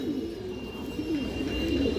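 A large female Hurricane-line pigeon coos in low, wavering, repeated calls, close and steady over a faint background hum, with no talking.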